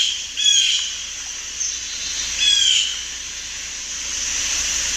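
Agitated birds squawk in two short, harsh calls a couple of seconds apart, moderately distant over a steady outdoor hiss.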